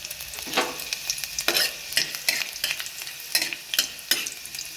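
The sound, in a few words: black pepper and chopped garlic frying in oil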